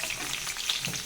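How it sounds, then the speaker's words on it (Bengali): Papaya pieces fry in hot oil in a wok, a brief close, steady sizzle and crackle with no talking. "পেঁপেগুলো আমি একদম লাল লাল করে ভেজে নিয়েছি"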